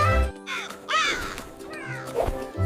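A crow caws several times in a children's story, harsh nasal calls in a close, loud sequence with short gaps between them and no speech over them.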